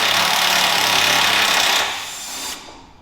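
A power tool rattles loudly and continuously as it backs out a 16 mm sway bar link bolt on a 2020 Ram 1500, close up, then cuts off abruptly about two seconds in.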